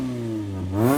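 A modded Mini Clubman estate's engine idles with a deep, steady hum, then revs up sharply near the end, its pitch climbing.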